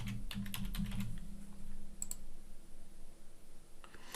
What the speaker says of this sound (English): we'll have to first type in my password